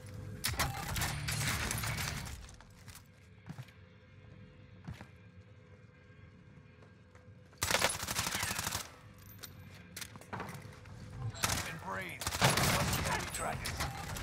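Bursts of automatic gunfire in Warzone, a Verdansk battle royale match, coming in loud volleys separated by quieter stretches, with a player's voice occasionally heard.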